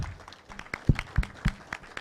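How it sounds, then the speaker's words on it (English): Scattered hand claps from a small audience at a formal forum, a handful of separate claps spread over a couple of seconds, moderately close and thin rather than a full ovation. "Please keep the applause coming."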